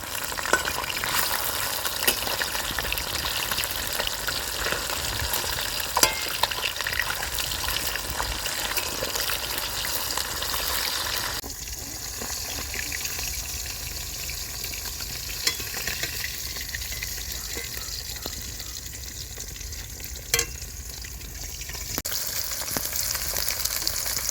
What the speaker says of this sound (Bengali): দেখুন মাছটা খুব ভালো লাল লাল করে ভেজে নিয়েছি সব মাছগুলো।